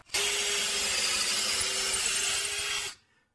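A 1.5-inch hole saw bores through wood in one steady, loud, close grinding cut lasting about three seconds, with a constant whining tone, then stops abruptly.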